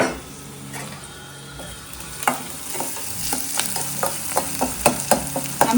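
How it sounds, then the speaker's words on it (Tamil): Raw plantain frying in a pan with onion and garlic, a steady soft sizzle broken by repeated scraping stirs that grow busier toward the end, close by with no talk. "அந்த வாழைக்காவோடு சேர்ந்து நல்லா கொஞ்சம் ஃப்ரை ஆயிடும்."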